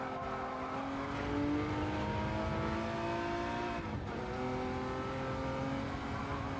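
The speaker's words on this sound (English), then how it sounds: "Testarossa sounds pretty tasty." Ferrari Testarossa engine in a racing video game, a steady harmonic drone that rises in pitch, dips briefly at a gear change, then climbs again, with no talk.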